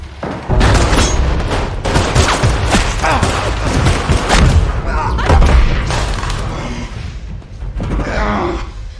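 Gunfire in a film scene about a former hitman: several loud, booming shots and thuds spread over a tense stretch, mixed with voices talking.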